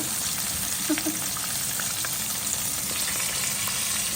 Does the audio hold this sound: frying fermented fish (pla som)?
yes